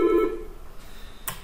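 An office IP phone on a Karel IP PBX system gives off a steady telephone tone that fades during the first half-second, followed by a brief sharp electronic click or beep near the end.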